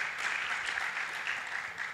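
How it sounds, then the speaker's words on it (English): Steady applause from a conference audience, dense clapping at moderate volume throughout without any voices. "Can we give a round of applause to Justin?"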